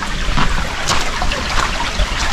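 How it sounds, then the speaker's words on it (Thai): A natural waterfall pours down over rocks in a forest valley, a loud, continuous broadband rush of flowing water close by, with no voices. "ตัวนี้ก็จะมีน้ำไหลเนาะเป็นน้ำตกไหลลงมาเนาะ ตามธรรมชาตินะครับเนาะ น้ำใสไหลเย็นสบายสบายเนาะ"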